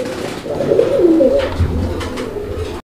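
Pigeons coo steadily at a pigeon market where Lahori pigeon pairs are on sale, a close, continuous run of soft, rolling calls with little else beneath.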